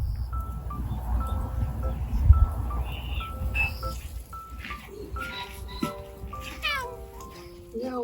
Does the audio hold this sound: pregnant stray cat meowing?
yes